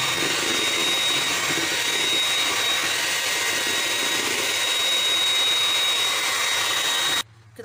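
An electric mixer whips an ice cream mixture of milk with a loud, steady high-pitched motor whine that runs unbroken and cuts off abruptly at the end.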